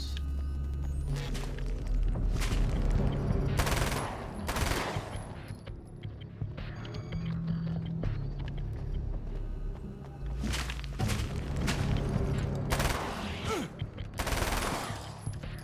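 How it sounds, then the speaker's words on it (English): SMG fire in Alan Wake's American Nightmare: loud, close bursts of rapid automatic shots that recur through the stretch, broken by dull thuds and quieter gaps. "this SMG sends their bodies kind of flying"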